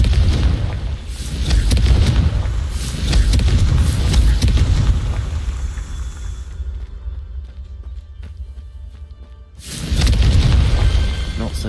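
Loud, deep booming explosions from the Confringo fire spell in the video game Hogwarts Legacy, sustained rumbling blasts with a brief lull before another heavy burst.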